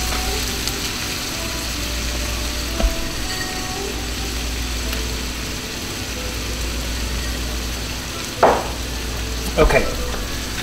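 Ground turkey, mushrooms and onions frying in a pan for turkey stroganoff, with a steady low sizzle throughout and a few brief scraping stirs near the end; a single short word is spoken.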